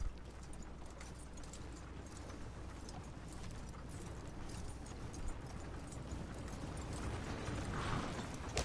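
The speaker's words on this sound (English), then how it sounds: "I'll go hitch up my horse." Horse hooves clip-clop in a steady, rapid rhythm in Red Dead Redemption 2, with creaking and mechanical tack rattles woven through, building slightly louder toward the end with no talk.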